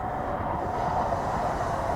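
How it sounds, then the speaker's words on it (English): A steady, low rumbling drone of a train rolling by an RV park in St. Louis, Missouri, continuous and unbroken for the whole short stretch, with no voices. "Here's a train."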